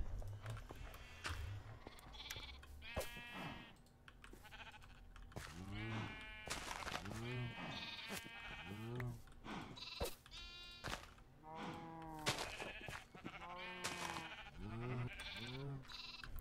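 Sheep in a video game bleat repeatedly, several wavering calls overlapping at irregular intervals, some higher like lambs, close and clear over a quiet background.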